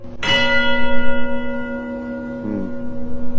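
Church bells chime loud and close. A sharp strike is followed by a long ringing hum that throbs steadily, and a second, softer stroke lands later over the fading tone, with no voices.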